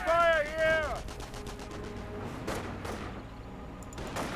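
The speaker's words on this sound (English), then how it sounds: "They're catching rifle fire here." Rifle fire crackles in the Company of Heroes 1 strategy game, with scattered shots and bursts spread over a busy battle mix after a brief whistling tone at the start. It sits at moderate loudness with no clear voices.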